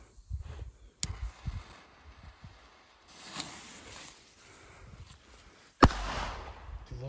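Two sharp, loud bangs of Doom Boom Micro firecrackers a few seconds apart, the second followed by a brief hissing crackle, against a quiet outdoor background.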